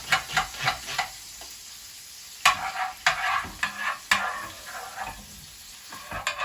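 Soy sauce mixture with meat being stirred in a frying pan for a Japanese-style beef hamburg, rhythmic scraping strokes over a light sizzle, close up with no voices.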